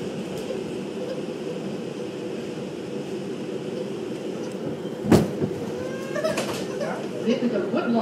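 Steady low rumble of a New York City Woodlawn-bound 4 subway train running, with a sharp clack midway and a voice talking over the ride toward the end.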